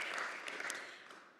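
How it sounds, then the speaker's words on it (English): Faint audience applause at an annual meeting: a brief, dense patter of many hands clapping at a distance, already fading as it ends. "They get applause too."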